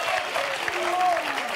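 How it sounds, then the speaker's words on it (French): Studio audience applauding a quiz contestant on a French television game show, a steady clatter of clapping throughout with a faint tonal line drifting across it. "On peut l'applaudir"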